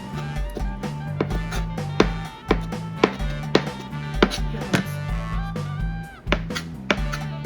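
A knife minces vegetables for clam chowder on a cutting board, a steady run of crisp, close chops that repeat quickly and evenly, with soft music-like tones running underneath.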